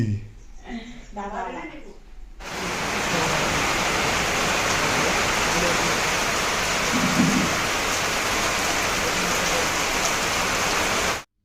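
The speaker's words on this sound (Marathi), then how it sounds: "पाऊस बघा किती मस्त जोरात येतो आहे" A voice speaks briefly, then heavy rain pours down in a loud, steady roar that continues to the end.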